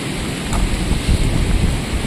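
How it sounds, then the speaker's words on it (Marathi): Heavy rain pours outdoors during crab catching, a loud dense roar with low rumbling gusts, close and continuous, with no voices. "पाऊस पण भरपूर चालू आहे."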